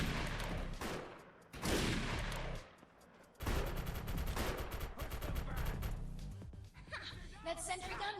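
Sustained gunfire against a sentry gun in the shooter Defiance, loud overlapping bursts with short gaps and a drop-off near the middle, mixed with speech and game noise.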